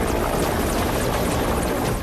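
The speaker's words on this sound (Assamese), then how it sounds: "কিয় এতিয়া অসমৰ ৰাইজে দেখা নাই আকাশত হেলিকপ্টাৰ?" Helicopter flying overhead in Assam, a loud, continuous rotor and engine roar that fills the whole moment with no break and no voices.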